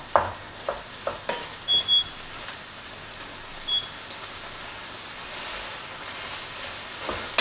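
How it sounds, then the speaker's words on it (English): Spiced biryani rice stirred in a pan, giving a soft, steady sizzle and scraping with a few light clinks of the utensil, fairly quiet with no voices. "Just going to mix this all in there nicely."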